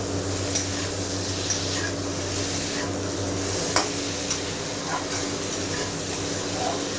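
Potatoes sizzle steadily in a pan over medium-low heat while being sautéed for a fish curry, with soft stirring scrapes and occasional clinks over a constant frying hiss.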